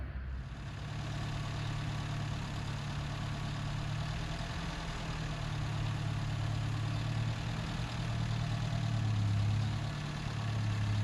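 A 1947 MG TC engine runs at a steady idle, a close, continuous low rumble that builds slightly near the end as the car begins to pull away, with no talking.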